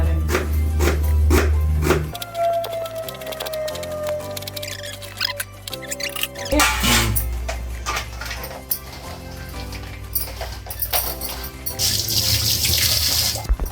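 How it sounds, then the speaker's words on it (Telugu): Running tap water splashes and patters as green chillies are washed under it in a home kitchen, close and fairly loud, with clatters and a brief squeaky tone, no talk. "ఈ పచ్చిమిర్చి నీట్గా కడగాలి."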